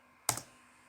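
A single sharp Enter key press on a computer keyboard during ArchiCAD drafting work, one crisp close click with a short tail, alone against quiet room tone.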